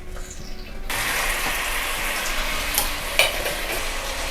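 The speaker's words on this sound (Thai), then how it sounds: "ก็จะเอาซี่โครงหมูค่ะ ใส่ลงไปนะคะ อย่าเทนะคะให้ใช้วิธี ตักลงไปนะคะ" Pork spare ribs spooned into a hot pan burst into a loud, steady sizzle after a quieter start, with light stirring scrapes and a brief clink partway through.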